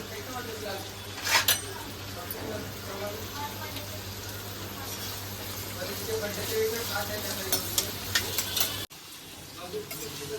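Onion frying in oil in a pan for green chicken gives a low steady sizzle with a few stirring clinks, under someone talking nearby.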